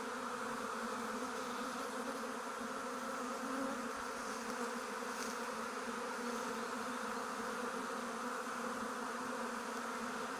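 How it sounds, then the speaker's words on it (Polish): A honeybee swarm leaving a hive in Kashubia, Poland, fills the air with a dense, steady buzzing drone, many bees at close range with no break and no talk. "Wygląda na to, że tej pszczoły jest więcej."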